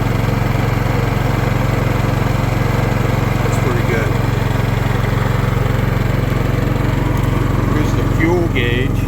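A Predator 11500 generator powering a motorhome runs nearby at light load, a loud, constant low engine drone with a steady hum, while a person talks over it.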